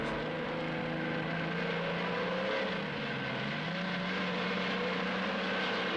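A battle tank with advanced suspension drives over obstacles, its engine a loud, continuous, heavy drone that rises and falls slightly throughout.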